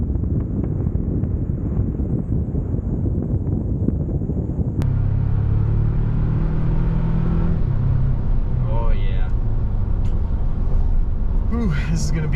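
2024 Toyota Tacoma pickup truck on the road, a steady low engine and tire rumble with heavy wind buffeting at first, then a smoother cabin drone as someone talks over it.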